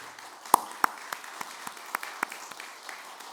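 A church congregation applauds at a Sunday service with sparse, scattered hand claps, individual sharp slaps spread unevenly across the room and fairly faint overall.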